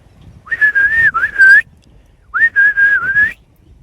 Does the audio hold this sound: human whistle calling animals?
yes